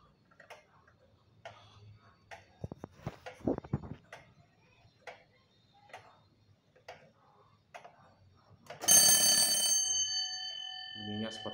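Faint ticking and clicks give way to a loud, close alarm bell on a Frisian Dutch tail clock (staartklok), struck by the same hammer as the strike, ringing for about a second and then ringing down.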